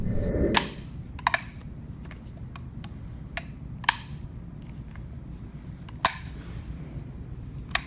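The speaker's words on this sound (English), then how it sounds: "as Jack's manipulating the firing positions, I didn't know it actually actuates the safety lever, AK style safety lever" Sharp metallic clicks and clacks from the fire selector and AK-style safety lever of an Israeli Galil rifle being worked, about a dozen irregular snaps, close and crisp over a low room hum, with no talking.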